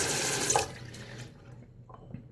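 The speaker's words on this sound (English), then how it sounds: "I think we need to add just a touch more water" A short run of water pouring or splashing close by as water is added to shaving lather, stopping after a moment, followed by faint wet handling sounds.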